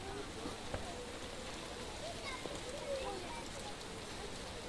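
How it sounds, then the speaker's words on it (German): Rain falls in the video game The Witcher as a steady, dense hiss of drops with a few soft spatters, at a moderate level with low background rumble. "Ein bisschen übertrieben, der Regen hier."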